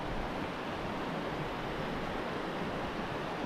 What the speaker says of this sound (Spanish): Miren el río.